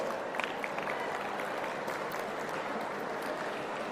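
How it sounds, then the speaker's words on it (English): A crowd of students cheers and applauds at a foundation-laying ceremony for a Quantum Valley building, a steady, dense wash of clapping and shouts that holds for several seconds without a break. "a huge cheer for the student community over here"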